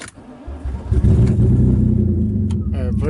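A drift car's engine cranks and catches, then settles into a loud, close rev that holds steady for a couple of seconds, with a short spoken phrase over it near the end.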